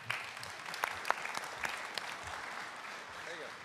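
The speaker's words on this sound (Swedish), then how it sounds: "En applåd till de här personerna" Audience applauding a university panel being introduced, fairly faint and steady clapping spread across the room, with a few sharper claps standing out and some faint voices underneath.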